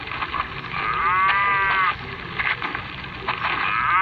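Cows mooing in a video game: a drawn-out, wavering moo rises over a steady background hum, followed by softer lowing, with no talk.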